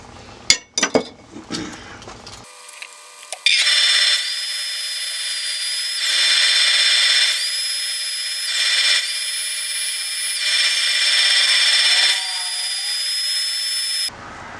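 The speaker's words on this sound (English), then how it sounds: "We're back and we've got it sanded to 600." A natural edge walnut bowl spins on a lathe while being sanded, giving a steady, loud, high whine with tonal hum that swells and eases in waves, after a few brief clinks and knocks at the start.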